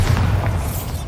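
Bombarda blasting spell going off in Hogwarts Legacy, a dense low boom rumbling steadily for about a second with heavy bass and no clear separate hits.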